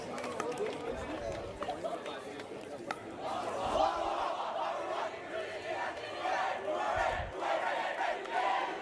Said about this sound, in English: And the crowd is pumped. The crowd is into it.